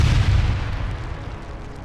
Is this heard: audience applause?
no